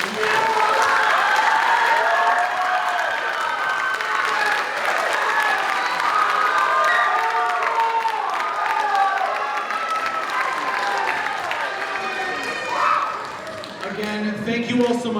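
Loud sustained applause and cheering from the audience at an eighth-grade band and choir concert, steady dense clapping across the whole stretch with some voices mixed in, easing slightly near the end.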